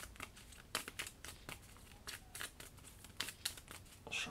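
Basic resource cards for the Kingdom Death board game get shuffled by hand in a burst of crisp, rapid riffs and snaps, with short papery clacks coming close and clear at an uneven rhythm.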